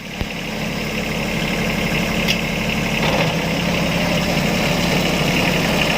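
A Kubota B1-14 four-wheel-drive tractor with a 14-horsepower engine and rotary tiller idles steadily nearby, a continuous low diesel rumble with a brief click near the start and no speech.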